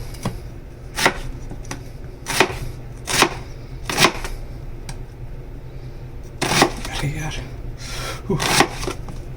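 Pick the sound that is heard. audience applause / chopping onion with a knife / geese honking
chopping onion with a knife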